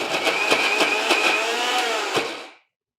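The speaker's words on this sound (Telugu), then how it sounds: "ఈ మిక్సీలో వేసాక ఇది మరీ మెత్తగా శుద్ధ అయిపోకూడదు, జస్ట్ మొత్తానికి బ్లెండ్ అవ్వాలి, కలవాలి అంతేనమాట." A mixer grinder blends grated coconut for about two and a half seconds, its steady high motor whine loud and close, with a few jar knocks along the way before it cuts off abruptly into silence.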